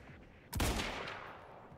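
A sniper rifle quick-scope shot in the Quantum Break video game: one sharp, loud crack followed by a decaying rumbling tail.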